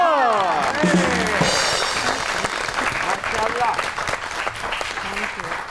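Studio audience applauding a singer's welcome on an Independence Day special episode, a loud sustained wash of clapping with a host's voice speaking over the start.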